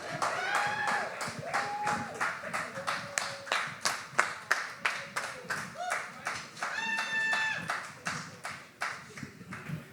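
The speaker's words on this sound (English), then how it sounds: "please give a huge round of applause to Morgan Moore." An audience at a poetry slam breaks into steady rhythmic clapping that carries on for several seconds, with scattered voices and cheers mixed in among the hands.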